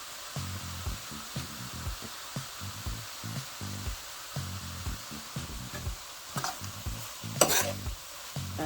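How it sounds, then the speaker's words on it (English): Onion, garlic and red pepper cook in a pan with a steady low sizzle, broken by repeated utensil stirring and scraping, and a brief brighter hiss near the end. "more onion, the garlic, and some red pepper in there and let that cook up"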